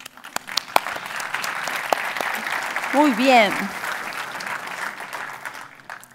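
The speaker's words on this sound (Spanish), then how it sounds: "Un aplauso, ¿no?" A tech conference audience applauds, a dense patter of claps rising to a peak midway and then fading out, with someone speaking briefly over it and a whistle-like tone cutting through.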